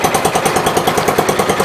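A tractor engine runs close and loud, with a steady, rapid chugging pulse and a rough mechanical rumble that holds throughout.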